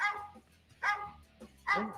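A dog gives three short, strained barks at regular intervals, each a brief yelp-like cry, fairly clear and close with quiet gaps between them.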